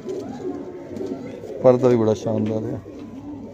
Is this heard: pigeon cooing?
yes